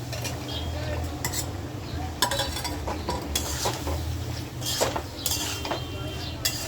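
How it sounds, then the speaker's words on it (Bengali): Vegetables, including potatoes, soy chunks and taro, go into a pan of spice paste frying in oil and are stirred, with a spoon scraping and clattering against the pan over a soft sizzle, in scattered bursts. "মশলাটা আমার কষানো হয়ে গেছে, তেল ছেড়ে দিছে। এবার আমি সবজিগুলো দিয়ে দেব।"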